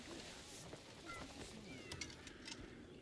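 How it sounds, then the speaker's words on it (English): A cat meows in the video game Crimson Desert, a few faint short mews over quiet ambient game sound with light background voice. "Yeah, the cat constantly meows."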